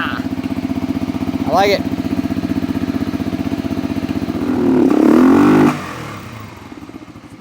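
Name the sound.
motorcycle engine starting and running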